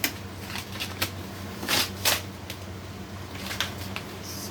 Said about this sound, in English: Might be easier just to get fresh tape out.